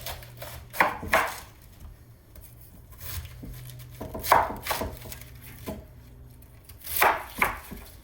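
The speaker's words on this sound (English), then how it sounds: "I usually just cut around the core." Knife chopping around a vegetable core on a cutting board, several clustered cuts in bursts near and fairly crisp, with quiet pauses between.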